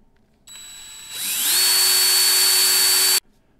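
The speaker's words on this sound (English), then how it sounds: "And the drill method." A small power drill used on a Matchbox 38b Vauxhall Victor Estate model car, a short whine that spins up quickly to a steady high pitch, holds for about two seconds, then stops abruptly.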